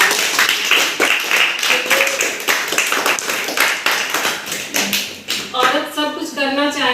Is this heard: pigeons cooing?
no